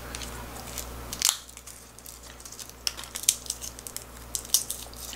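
Roasted peanuts being shelled by hand give off sparse, quiet crackles and crunches, a few sharper snaps standing out over a soft background with no talking.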